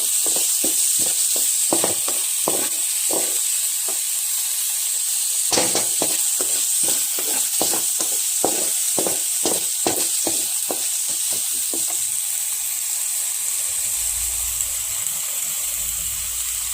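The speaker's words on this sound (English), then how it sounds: "Try to fry it properly." Palak chicken masala fries in a pan over a low flame, giving a steady sizzle with intermittent stirring scrapes and clicks that ease off toward the end, with no talking.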